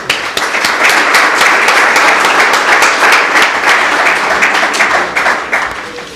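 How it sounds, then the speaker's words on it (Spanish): A lecture audience at a history talk breaks into sustained applause, a loud, even wash of many hands clapping close by for several seconds before it thins out at the end. "vamos a empezar agradeciéndole esa colaboración con un aplauso"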